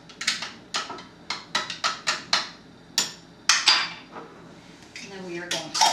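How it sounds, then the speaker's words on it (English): Beet kvass stirred in a jar to dissolve salt: a series of sharp clinks and taps from the spoon striking the glass, coming in quick irregular bursts up close, with no voices. "Then I'm going to stir it 1 more time. Make sure that salt is really well dissolved."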